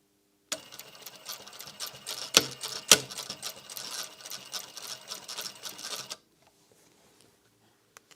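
Sewing machine stitching a pleated face mask, a close, rapid mechanical whir with ticking clicks and a couple of sharper knocks, running for several seconds before stopping into near silence.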